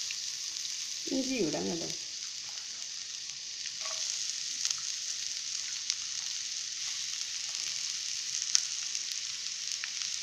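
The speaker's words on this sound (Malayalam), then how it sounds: "ഒഴിച്ചു കൊടുത്ത് നമുക്കിനി ഈ സവാള ഇട്ടൊന്ന് വഴറ്റിയെടുക്കാം" Onions sautéing in a little coconut oil in a pan, a steady close hiss of sizzling throughout, with a brief spoken phrase near the start and faint stirring clicks.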